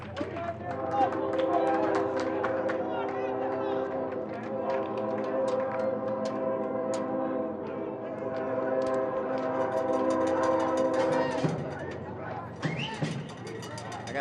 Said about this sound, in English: I love when that train comes piping through here